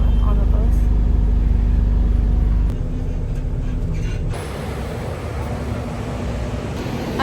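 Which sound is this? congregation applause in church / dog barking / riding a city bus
riding a city bus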